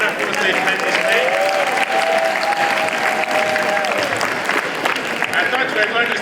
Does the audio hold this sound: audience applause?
yes